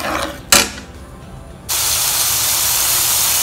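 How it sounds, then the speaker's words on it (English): Masala frying in a karai: a short clatter and quieter pause, then a sudden steady loud hiss of frying that holds evenly to the end, close by. "I have given it to the karai, and now I'm going to fry this for a"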